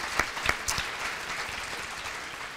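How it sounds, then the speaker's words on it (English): An audience at a child care policy breakfast claps, with a few sharp claps standing out at first before settling into steady, moderate applause that fades slightly. "If we can give them a round of applause for bringing us together."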